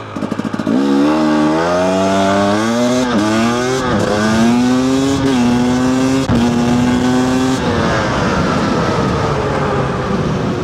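2-stroke 300cc motorcycle accelerating hard from a standstill, starting in second gear: a loud, close, rising engine wail through several quick upshifts, each marked by a brief dip before the pitch climbs again, then easing off near the end.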